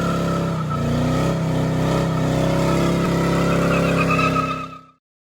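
A square-body truck's engine runs with a steady, low rumbling drone that swells slightly as it pulls away, then cuts off abruptly near the end; close and loud, with no talking.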